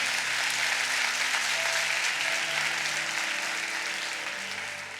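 A church congregation breaks into loud, sustained applause, dense clapping filling the space for several seconds and tapering slightly at the end, with faint music tones underneath.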